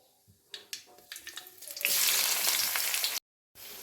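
Onions and mustard seeds frying in hot oil, a faint crackle building into a loud, steady sizzle that runs for over a second before cutting out briefly and returning.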